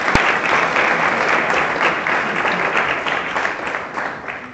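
Audience applause at a student congress general assembly, a dense, steady wash of many hands clapping that holds at a fairly even level throughout, with one sharp knock near the start.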